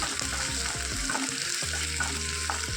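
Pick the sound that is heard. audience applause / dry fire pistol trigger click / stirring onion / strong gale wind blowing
stirring onion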